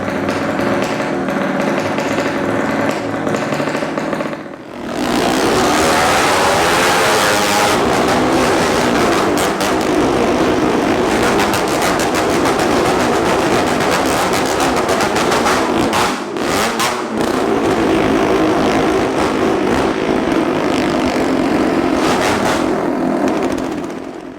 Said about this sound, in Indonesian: di sini berisik banget karena itu motornya udah mulai dihidupin nih